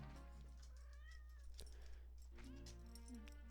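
A cat meows in The Legend of Zelda: Ocarina of Time, giving a couple of short, moderately faint calls over steady game background sound, with no talking.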